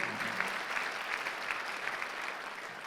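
Congregation applauding during a Sunday worship service in a Korean church, a steady even wash of many hands clapping with no talk over it.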